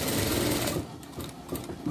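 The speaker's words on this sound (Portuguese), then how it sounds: "vou costurar a minha lateral somente até a metade" A sewing machine stitches the side seam of a dress for a Shih Tzu. A close, rapid whirring chatter runs for under a second, then slows into softer, uneven stitching pulses.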